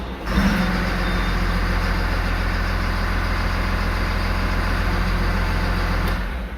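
The engine of a Cat IT28G wheel loader starts and runs steadily at idle while its hydraulic brake system charges, a loud, constant low rumble that ends abruptly near the close.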